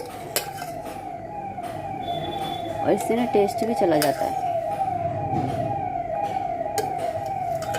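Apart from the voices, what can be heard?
ambulance siren passing outside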